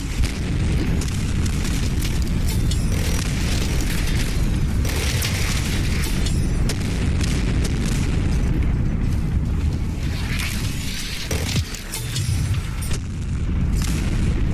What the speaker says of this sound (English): we definitely got a super mutant with a grenade launcher